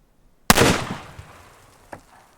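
A Smith & Wesson .460 XVR revolver fired from a table rest lets out one loud, abrupt blast that decays quickly, followed by a softer thump moments later.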